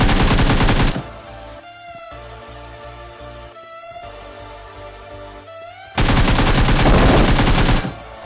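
Prefire gunfire in PUBG Mobile, a loud rapid automatic burst, a few seconds of quieter game sound with scattered clicks, then a second sustained burst just as loud.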